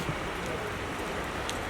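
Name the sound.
heavy rain falling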